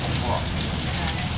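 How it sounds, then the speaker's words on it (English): Heavy rain pours down during the rainy season in Bangkok, a dense, loud, steady hiss of drops hitting surfaces close by with no break. "It's raining so hard."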